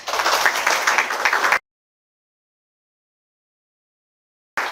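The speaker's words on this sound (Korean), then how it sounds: "큰 박수 부탁드립니다." An audience applauds at a startup investor-relations demo day, a short burst of dense clapping that cuts off abruptly into silence before a faint return at the end.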